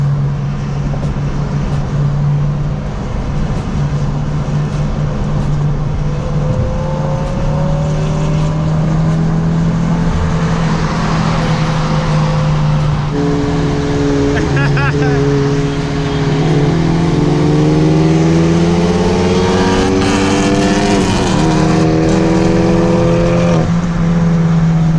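A turbocharged HKS FRS racing a Genesis coupe, engines droning loudly and steadily and then revving higher with climbing pitch, the roar constant and close throughout.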